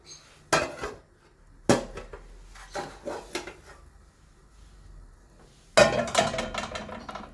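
Cooking a spinach and cheese sandwich, with a pan lid and pan clattering and knocking in a few sharp, close metallic hits separated by quieter scraping and handling noises.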